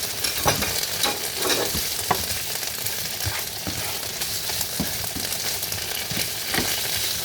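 Chorizo fries in a pan with a steady, crackling sizzle, punctuated by repeated scraping and clacking as it is stirred, close and fairly loud throughout.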